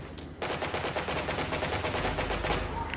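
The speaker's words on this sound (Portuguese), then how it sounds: "Estão atirando, estão dando bala em mim." Rapid automatic gunfire rattles continuously in the Omega Legends battle game, with a few sharp shot bursts dense and loud throughout, no talk over it.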